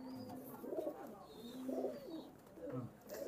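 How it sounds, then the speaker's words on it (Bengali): Red-necked running pigeons cooing close by in repeated soft, rolling low calls, several phrases in a row with faint chirps in the background. "এই দুটো হলো গলা লাল কবুতর"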